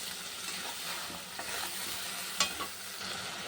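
Spice paste of green chilli, turmeric and salt frying with potatoes in a wok for a bhola fish curry, a steady close sizzle with light stirring scrapes and one brief sharp clink of the spoon, no voices.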